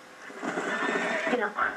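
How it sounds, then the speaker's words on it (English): A horse in Red Dead Redemption whinnies in a long, shaky neigh, loud and close, with a faint hoof thump at the end. "Oh, there's a horse back here."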